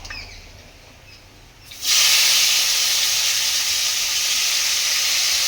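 Tomato dropped into hot oil for mutton curry with Chandramukhi potatoes, erupting into a loud, sustained hissing sizzle after a quieter moment, close and steady.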